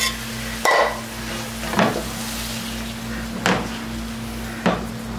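Eggs fry in oil in a pan with a soft, continuous sizzle, punctuated by four distinct knocks or clatters spaced a second or more apart, under a steady low hum and without speech.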